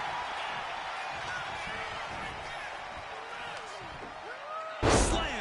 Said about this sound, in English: Slammed with a purpose.